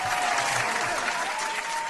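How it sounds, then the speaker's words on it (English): A brief round of applause for a guest on a crypto livestream, dense steady clapping from a crowd, heard alone without talk. "Let me give him a round of applause."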